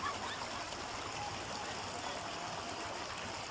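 Mountain stream water rushes in a steady, broad, continuous flow, fairly close, with no clear voices over it.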